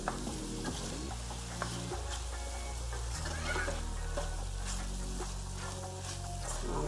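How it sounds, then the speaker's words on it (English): Beef with garlic and ginger sizzles steadily in a pan for a pepper steak stir fry, a constant close frying hiss with occasional stirring scrapes, and a voice speaks briefly. "let that garlic and ginger cook in with this meat"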